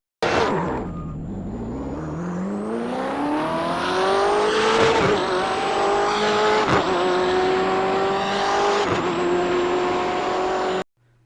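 A BMW M8 GTE racing car engine in the iRacing video game revs hard and accelerates through several gear shifts, the raspy note climbing and briefly dipping at each change, loud and close.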